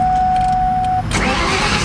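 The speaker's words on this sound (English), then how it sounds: "So that's all the idle that I'm getting. It's idling it like that." A cammed Ford SVT Cobra Terminator V8 idles loudly and close, a steady engine drone with a high whine, then shifts to a rougher, broader roar partway through.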